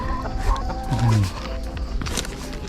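Chickens clucking close by on a forested estate, with a few short calls breaking through a busy outdoor background.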